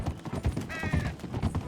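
Horse hooves clip-clop in a steady walking rhythm on a dirt path in Red Dead Redemption 2, close and moderately loud, with a brief whinny-like tonal sound midway.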